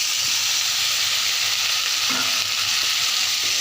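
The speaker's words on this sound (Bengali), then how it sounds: "টমেটো দুই একবার নাড়াচাড়া করে" Tomatoes fry in hot mustard oil with a steady, loud hiss, and a spoon or spatula scrapes through them once or twice as they are stirred.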